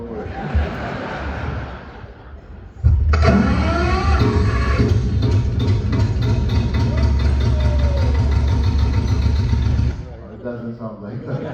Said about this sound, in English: And you want to see how the engine starts?